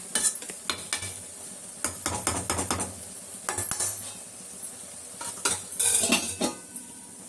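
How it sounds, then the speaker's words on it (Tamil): Rasam being tempered in a pan at home: a metal spoon clanks and scrapes repeatedly against the vessel in quick bursts while a soft sizzle of frying runs underneath. "ரசம் தாளிக்க போகிறோம்"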